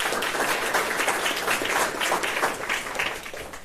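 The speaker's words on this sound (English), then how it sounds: "Please give him a round of applause." Steady audience applause fills a news conference room for the Magic City Classic, a dense, continuous patter of many hands clapping at even volume throughout, with no voices rising above it.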